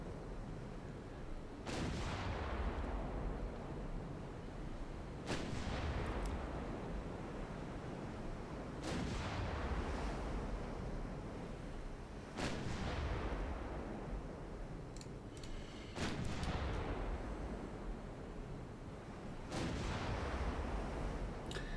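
Naval guns on a dreadnought in a naval warfare game fire armour-piercing shells. Six heavy booms come at regular intervals of about three and a half seconds, each one rolling out into a long, rumbling decay.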